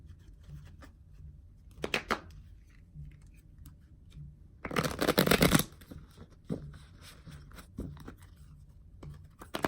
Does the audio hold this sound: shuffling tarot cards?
yes